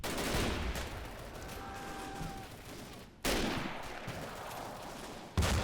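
British troops firing in the Totaler Krieg mod of a WWII strategy game: sharp rifle and machine-gun bursts crack in repeated volleys, some distant and some close, with a faint whistle in between.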